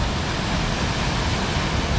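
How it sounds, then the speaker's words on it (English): Water of a small soda stream at Soda Springs, Idaho, rushing in a steady, loud broadband wash, close by and unbroken, with no voices over it. "this little river or stream here, it's the Soda"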